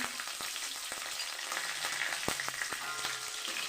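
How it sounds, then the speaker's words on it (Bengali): Mustard seeds with green and dried chillies tempering in hot oil in a pan, a steady crackling sizzle with small pops and light clinks, with no talking. "সর্ষে একটু সর্ষে ফোড়ন দিয়ে দিলাম কাঁচা লঙ্কা শুকনো লঙ্কা"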